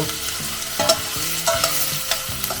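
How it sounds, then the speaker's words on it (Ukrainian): Chicken wings frying with onion in a pan, a loud close sizzle with a spatula scraping and stirring in short rhythmic strokes, no voices. "я трохи підсмажив крильця з цибулею"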